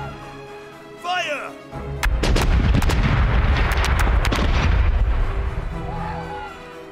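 Ship cannons boom in a video game naval battle, one early shot followed by a dense rolling barrage of heavy blasts and crashes that lasts several seconds, with a voice talking around the firing.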